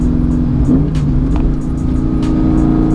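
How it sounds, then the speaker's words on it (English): A Ford Mustang GT, set up with a nitrous shot and held in third gear, roars loudly and steadily up close, its dense engine drone staying high and sustained throughout with no talk. "You want me to rev it all the way out if it does?"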